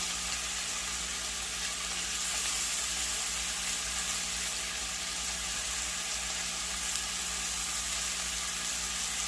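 Onions frying in a pan, a steady, even sizzle with a hissing crackle that continues unbroken at moderate volume.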